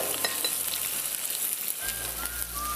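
Spring onion greens dropped into a frying pan with chilli paste, garlic and chilli, giving a continuous bright sizzle at moderate level with a few faint clinks and no speech.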